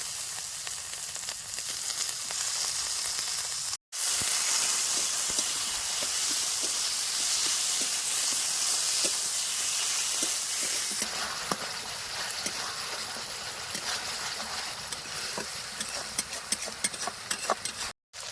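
Tomatoes fry with spice paste in oil in a village kitchen, giving a loud, steady sizzle across the whole stretch. There is one short gap, and the end breaks into crackling pops.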